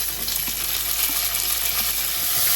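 Onions and vegetables, tomato and chayote among them, fry in a pan with a steady, close sizzle and a few soft stirring scrapes, no voices.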